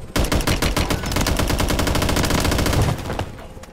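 Rapid automatic gunfire from a Call of Duty Plunder match rattles in a dense, continuous burst for about three seconds before cutting off.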